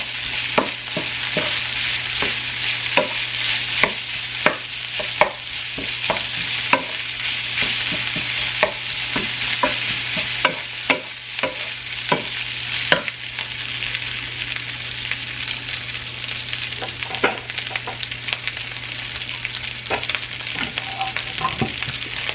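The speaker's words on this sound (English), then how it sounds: "Stir this out for a minute." Food sizzles steadily in a frying pan while a utensil stirs and scrapes it in a regular rhythm of distinct clicks, close and clear, with no talk over it.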